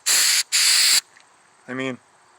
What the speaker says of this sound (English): Just spray a little bit of that in there like that.